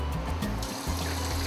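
Hot water pours from a tap into a container for making Cafe Bustelo coffee, a close, steady splashing stream with gurgling shifts in tone as it fills.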